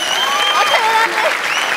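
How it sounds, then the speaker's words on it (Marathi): Loud applause from a live stage comedy show's audience welcoming a guest onstage, a dense sustained clapping that fills the room, with voices over it. "जोरदार टाळ्या."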